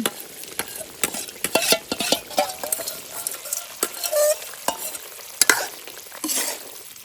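Koi fish frying in oil with garam masala, stirred by a utensil: a steady sizzle under repeated scraping and clacking strokes against the pan, close and fairly loud, with no talk.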